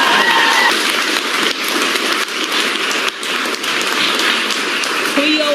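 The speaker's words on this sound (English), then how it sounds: "If you didn't clap so long" Dense, steady applause from an audience at a public meeting, continuous clapping close and loud throughout with faint voices mixed in.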